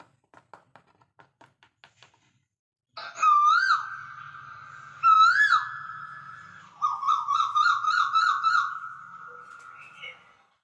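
After a few soft taps, a koel whistles clear, rising calls twice, then a longer warbling, bubbling trill, loud and close.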